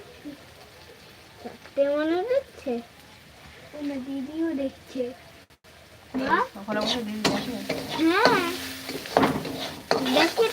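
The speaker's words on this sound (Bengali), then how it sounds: "পেঁয়াজ ভাজা" Onions frying in a pan in a home kitchen, a soft sizzle with occasional stirring and utensil scrapes, mostly under steady talk from several people.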